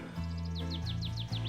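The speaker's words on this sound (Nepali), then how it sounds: "चराहरू पनि चिरिबिरी गरेर" Birds chirp in a quick, regular series of short, high tweets over a low, drawn-out cow moo.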